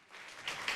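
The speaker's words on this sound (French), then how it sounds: "Merci pour vos applaudissements." Applause from an audience at a midday talk event, a short, soft burst of broadband clapping that swells slightly toward the end, fairly distant and alone without speech.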